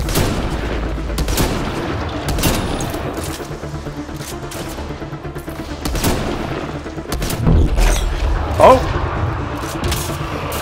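Weapon fire in the video game Mass Effect Andromeda on PS4, a dense run of repeated gunshots and bursts under steady game noise, with a louder blast near the end.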